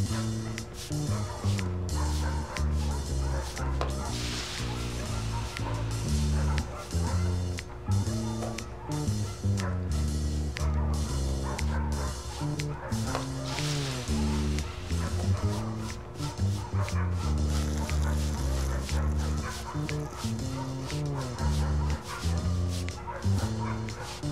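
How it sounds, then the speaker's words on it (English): Dogs in a kennel in the Family Guy video game bark and yip repeatedly in quick, overlapping bursts, with occasional whimpers, loud and close over a continuous bed of game music for the whole stretch. "All these dogs do is bark and crap."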